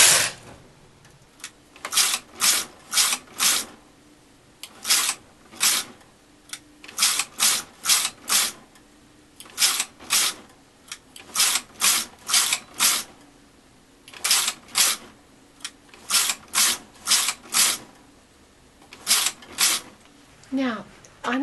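A domestic knitting machine runs rows in steady repeated bursts, each pass a sharp rattling carriage sweep with short pauses between, close and loud, working a scalloped fold-over trim.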